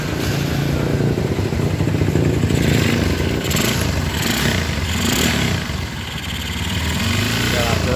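A motorcycle engine with a bored-up kit and a newly installed piston runs steadily and close by, a continuous even mechanical drone with no talk.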